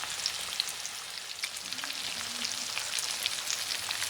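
Fish frying in hot oil in a pan, a steady close sizzle with scattered crackles and pops throughout, no voices.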